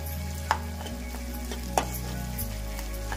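Thinly sliced onions and green chillies fry in a pan, a steady close sizzle with a low hum beneath and a couple of sharp utensil taps, no voices.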